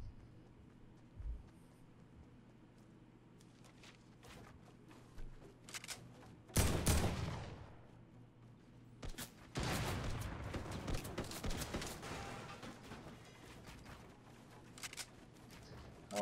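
Pump shotgun blast followed by rapid SMG bursts in a Fortnite match near Tilted Towers, loud and close, with dense gunfire and game sounds around them.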